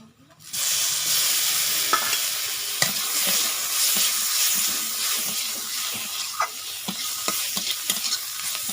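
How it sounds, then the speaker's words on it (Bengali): Spice paste and chopped tomatoes stirred in a hot pan, a continuous loud sizzle and hiss right up close with frequent spatula scrapes and small pops throughout, no voices. "আবারও ভালো করে মিশিয়ে নিচ্ছি।"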